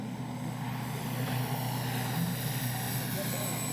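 A steady droning propeller engine of a Dynam Tiger Moth RC model biplane making a low pass hums at moderate distance, holding an even buzz throughout with no sharp changes.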